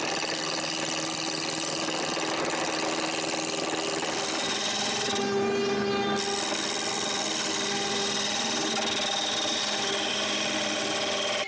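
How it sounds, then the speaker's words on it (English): Drilled wooden cubes turned into balls on a woodworking lathe for a Christmas ornament, giving a steady, continuous whirring and rasping of the cutting tool against wood, loud and unbroken, with a brief tonal shift midway and no voices. "When I have 9 drilled cubes, I can turn all of them into balls."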